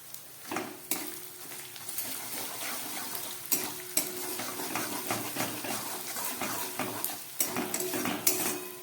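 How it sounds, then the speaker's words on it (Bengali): A paste of ground cashews and raisins is stirred into potato and pointed gourd frying in a pan, with a steady sizzle and frequent utensil scrapes and clinks against the pan, close and moderately quiet, with no talking. "আর এই যে আমি খানিক 4-5টা কাজু আর 4-5টা কিশমিশ এই যে হাফ বাটা করে নিয়েছি, এটাকেও এর মধ্যে দিয়ে দিচ্ছি।"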